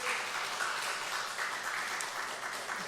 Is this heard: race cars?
no